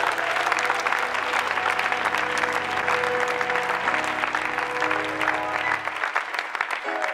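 Audience at a church seminar breaks into loud, sustained applause and cheering, a dense wash of clapping with a music bed beneath that fades toward the end.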